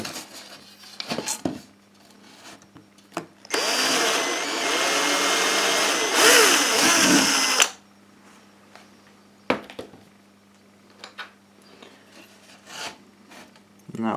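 A power drill with a 10 mm bit bores into plasterboard in one loud, rasping burst of about four seconds, set among quiet handling noises and small knocks.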